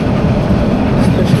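Steady, loud rumble of a train running on the Chittagong to Cox's Bazar line as it pulls into a railway station, a dense continuous low roar of wheels and carriage noise with no pauses.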